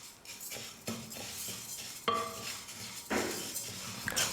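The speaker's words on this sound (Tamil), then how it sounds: "கடாயில் பாசிப்பருப்பை சேர்த்துட்டு ஸ்டவ்வை மீடியம் ஃப்ளேமில் வச்சுட்டு ஒரு 3 நிமிஷத்துக்கு பாசிப்பருப்பை வறுத்துக்க போகிறேன்" Moong dal dry-roasting in a kadai over a medium flame, stirred with a metal spoon that scrapes and clinks against the pan in repeated strokes, with a soft dry rustle between them.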